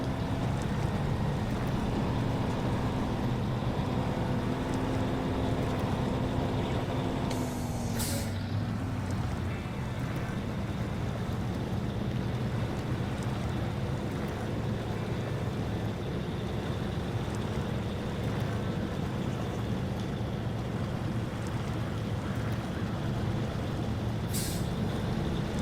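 Fleetstar F2070A truck in the SnowRunner video game straining in reverse while stuck, a steady loud diesel drone with an air brake hiss partway through and another near the end.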